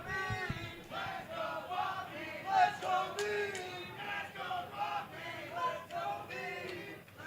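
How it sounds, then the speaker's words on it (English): A crowd cheers at a Classic Tetris championship in Toronto, with many voices shouting and chanting in rising and falling waves at moderate loudness. "I love the crowd getting into it here"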